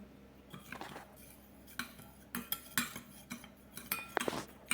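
A spoon stirs briskly in a bowl, dissolving a tablespoon of salt while making sushi, producing quiet, irregular clinks and scrapes against the sides.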